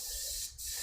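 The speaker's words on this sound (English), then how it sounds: "Begin an angle spraying, leaving some of the paint" Aerosol paint sprayed at an angle, lightly dusting over brown paint on a mule deer shoulder mount; a soft, close hiss runs almost continuously, with one brief dip midway.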